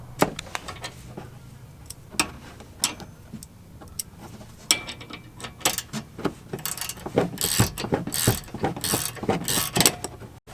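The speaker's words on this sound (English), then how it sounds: "So just get this bolt out and then move on from there." Ratchet wrench clicking in irregular bursts while a bolt is worked loose on Alfa Romeo Stelvio front suspension during a lowering spring install, sharp close ticks growing busier and louder toward the end, no talk.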